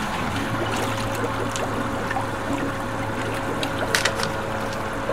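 Pump circulating white distilled vinegar from a pail through a tankless water heater, giving a steady hum with continuous trickling and gurgling liquid, fairly loud and close, without talk.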